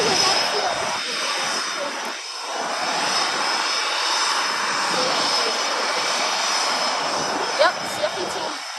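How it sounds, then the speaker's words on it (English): A Hornet jet roars at the 2022 AERO Gatineau-Ottawa airshow, its loud, sustained engine noise filling the sky at a distance while people talk nearby. "As you can see here, this airplane is flying."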